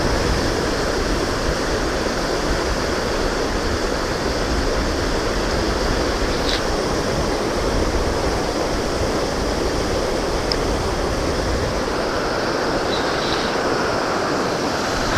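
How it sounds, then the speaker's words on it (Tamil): Water gushes from the opened Mettur Dam in a steady, loud, close roar that holds with no letup and no voices. "பாருங்க, தண்ணி செமையாக வருதா?"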